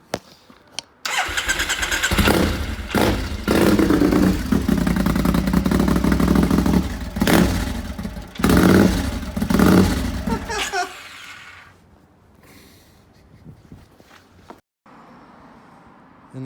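Triumph 2016 EFI Scrambler motorcycle engine cranks over and catches, then runs loud and close with a few revving surges before cutting back to a lower idle and falling quiet near the end.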